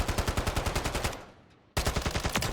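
Rapid bursts of automatic fire from the Cast-Off 545 gun in MW3 Warzone, a close, loud rattling stream of shots that fades briefly into a short lull before a second sharp burst resumes.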